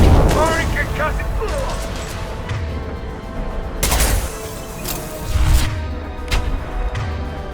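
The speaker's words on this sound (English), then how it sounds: "Firing concussive." Concussive shot fired in Mass Effect 2, heard as several sharp bursts and booms with whooshing impacts scattered over combat noise, alongside spoken voice lines.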